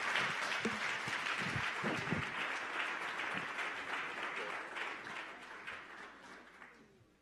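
An audience claps steadily in dense applause at the launch of a livestreamed event, slowly tapering off toward the end.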